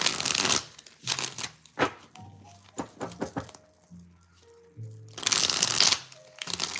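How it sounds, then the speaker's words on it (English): A tarot deck shuffled in several quick riffling bursts, separated by brief pauses and soft handling sounds, close and crisp. "I'm going to shuffle after each so we can use all the cards."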